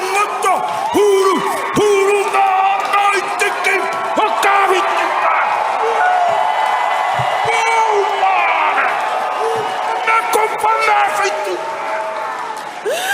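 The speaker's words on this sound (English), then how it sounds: "That is a pumped up crowd" Crowd of Star Wars Celebration fans cheering and whooping after a Maori haka, a dense, sustained roar of many voices with scattered shouts, loud and steady throughout.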